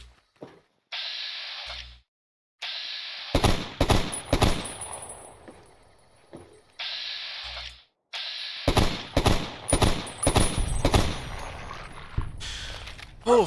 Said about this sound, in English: Close range artillery.